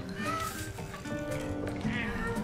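A cat in the game Hello Neighbor 2 lets out drawn-out, wavering meows, heard close and clear alongside a voice.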